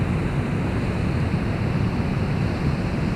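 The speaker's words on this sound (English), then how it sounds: "watching the water bubbles and the water fountains" Water fountains in Kuala Lumpur, Malaysia, produce a steady, dense rushing and bubbling wash of water, constant and fairly loud with no voices.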